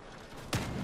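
Auto cannon fire in the vehicle combat game Crossout: a single sharp, loud shot bursts out midway through, standing above a steady bed of background game noise.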